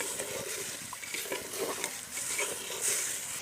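Sugar melts in a pan for chana dal laddu while a spoon stirs it steadily, the close scraping mixing with a soft continuous sizzle and no voices.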